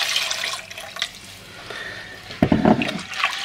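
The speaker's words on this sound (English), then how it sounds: "And now I'm going to stir in the milk." Milk is poured into a pot of bacon and cheese hotpot, giving a soft, close liquid splash and gurgle that swells briefly near the end over a faint background hiss.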